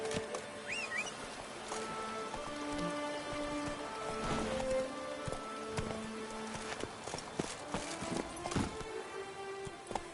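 Roach the horse gallops in The Witcher 3, with steady clip-clopping hooves over a continuous bed of rain-like patter and ambient game music, fairly close and mid-level.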